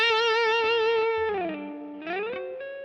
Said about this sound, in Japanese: 今度14フレットまでスライドします。